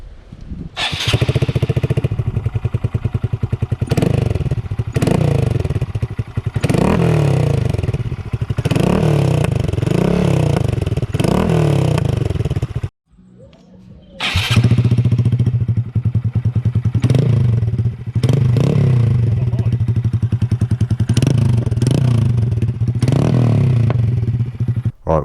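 A Honda Grom motorcycle engine with its exhaust baffle removed, revving hard and loud up close in repeated rising bursts, cutting out briefly near the middle before roaring back for more revs.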